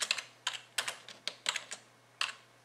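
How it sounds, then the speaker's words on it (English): A computer keyboard typed on to enter title text in video editing software, a few close, crisp keystrokes spaced irregularly in short clusters over a quiet background. "you double click and just write the end"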